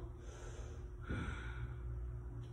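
A single deep inhale during a yoga flow session, a short, soft rush of breath in through the nose, close and quiet.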